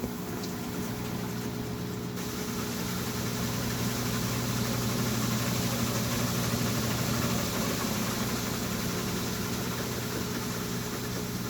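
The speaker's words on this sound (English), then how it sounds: "so it's starting to do the spin cycle" A washing machine in its spin cycle makes a steady, loud, continuous hum and rumble that holds even for the whole stretch with no talking.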